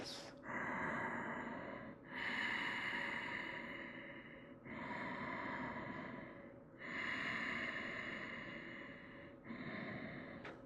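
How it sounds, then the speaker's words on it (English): Steady, calm breathing during a yoga sequence on triangle pose: long, full breaths of roughly two seconds each, repeated in an even rhythm, close and fairly loud with no talking. "Steady, full, calm breaths."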